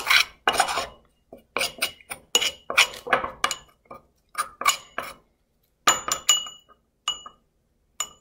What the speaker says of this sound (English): Then you want to mix it together until you have kind of a paste